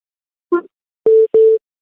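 A phone rings with an incoming call from an unknown number: a short chirp, then two steady electronic tones in a repeating pattern, close and clear with no talking.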